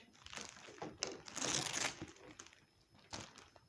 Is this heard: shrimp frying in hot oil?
no